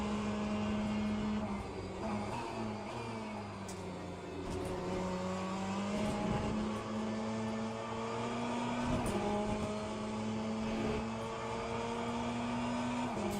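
A race car engine in the Le Mans Ultimate sim racing game drones loudly and continuously, its pitch climbing through gears and dipping on braking, with shifts and revving heard alone and close.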